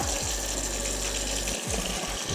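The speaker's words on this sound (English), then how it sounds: "our regular water that comes out the faucet" Regular tap water runs from a kitchen faucet in a steady, close, even gush with no pauses and no voices.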